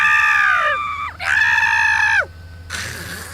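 A voice imitates a kid screeching like a dragon, giving two loud, long, shrill screeches that fall in pitch at the end of each, followed by a quieter raspy breath.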